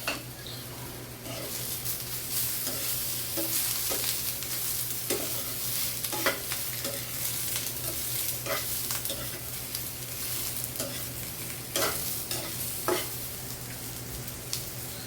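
Eggplant and egg sauté in a home-cooking pan, a steady sizzle running throughout while a utensil stirs and scrapes in repeated short strokes against the metal.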